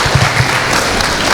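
An audience at a college event breaks into loud, dense applause, many hands clapping at once close by and filling the brief moment.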